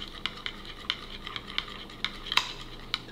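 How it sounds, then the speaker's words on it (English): A spoon stirs buffalo sauce with melted butter and honey in a dish, making a series of close, sharp clinks against the bowl at an uneven rhythm over a soft wet swish. "We're just gonna give this a good mix."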